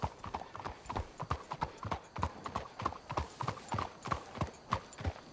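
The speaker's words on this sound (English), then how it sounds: "Let's hitch the horses up ahead." Horse hooves clip-clop in a steady, even rhythm throughout in Red Dead Redemption 2, close and fairly loud, with faint ambient game sound underneath.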